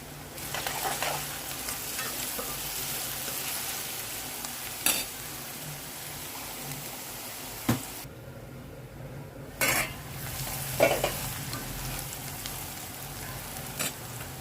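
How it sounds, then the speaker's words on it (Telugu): Onions frying in a pan for a raw prawn curry, a continuous gentle sizzle broken by occasional sharp spoon knocks and scrapes against the pan, heard close with no talking. "ఉల్లిపాయలు ఫ్రై అవుతున్నాయండి"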